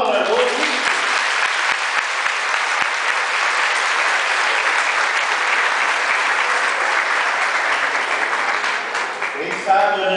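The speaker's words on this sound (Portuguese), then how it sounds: "uma salva de palmas, né?" A sustained round of applause fills a church rosary prayer gathering, dense and steady clapping from a congregation holding for about ten seconds before fading near the end.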